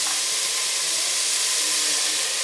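Ginger garlic paste sizzling in a hot pan with tomatoes and soya chunks while cooking veg pulao, a steady, close, loud broadband hiss that holds evenly throughout with no talking.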